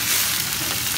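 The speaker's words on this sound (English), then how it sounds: "Look at that sizzle." Fish frying on a REC TEC grill gives off a dense, continuous sizzle, close and fairly loud, with no voices over it.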